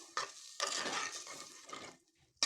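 Fish curry with curry leaves stirred in a pan, heard as several close, wet scraping and sloshing strokes in bursts, each separated by brief pauses.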